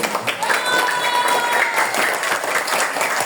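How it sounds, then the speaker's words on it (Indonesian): Children at an Isra Miraj celebration at an elementary school, SDN Jabang Bayi, burst into sustained applause, a thick, even wash of clapping with a few voices mixed in, loud and close the whole way. "Tepuk tangan adik-adik."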